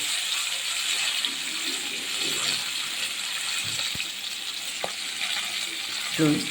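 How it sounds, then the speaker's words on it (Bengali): Ring-cut pieces of fish fry in hot oil in a kadai, giving a steady, bright sizzle with a few small pops and knocks near the end. "ভেজে নিই মাছগুলো লাল লাল করে ভেজে নেব"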